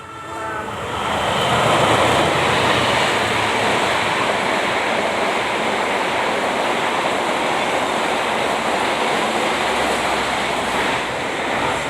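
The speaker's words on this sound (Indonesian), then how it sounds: "baru saja yang melintas adalah kereta api Fajar Utama Solo" The Fajar Utama Solo passenger train rushing past nearby in Indonesia, a loud continuous roar and rattle of wheels that builds quickly and holds steady for several seconds.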